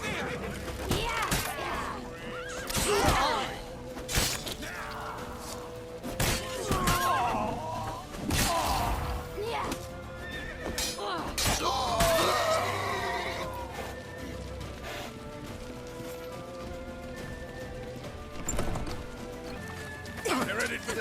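Horses in The Witcher 3 video game gallop with rapid, thudding hoofbeats and let out loud neighs, amid urgent shouting voices and game action.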